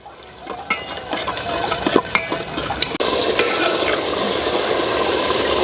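Yogurt stirred into softened tomatoes cooking in a pan for Hyderabadi chicken dum biryani, with a spoon clinking and scraping over a thick sizzle that grows steadier halfway through, close and loud with no speech.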